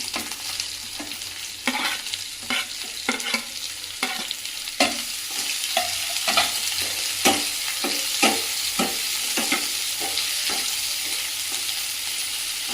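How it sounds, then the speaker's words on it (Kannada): Chopped onions fry in hot oil for a home-style chicken curry, with a spoon stirring the pan in repeated scraping strokes over a continuous close sizzle. "ಈರುಳ್ಳಿ ರೋಸ್ಟ್ ಆಗೋವರೆಗೂ ನಾವು ಈ ರೀತಿಯಾಗಿ ಮಾಡ್ಕೊಳ್ಬೇಕು, ಫ್ರೈ ಮಾಡ್ಕೊಳ್ಬೇಕು"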